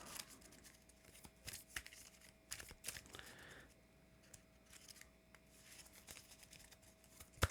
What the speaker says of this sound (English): Shuffle my deck here, or shuffle the challenge deck, not mine.